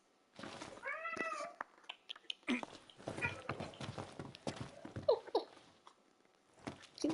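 A small cat meows clearly in the Final Fantasy XV video game, one drawn-out meow near the start, followed by footsteps, light clatter and scattered game sounds.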